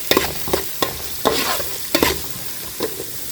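Onions frying in a pan while being stirred for an Arabic chicken pasta dish, heard as a close, loud run of sharp scraping stir strokes about every half second over a low sizzle.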